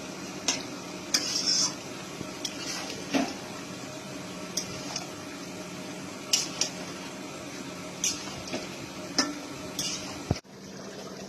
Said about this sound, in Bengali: এটা আমি চিকেনটার সাথে ভালো করে মিশিয়ে নেব।